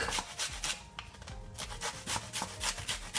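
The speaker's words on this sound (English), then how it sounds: "And I'm also gonna grate my garlic." Fresh garlic is grated in a kitchen: quick, steady rasping strokes repeat in a fast rhythm, close up but fairly quiet, with a brief pause midway.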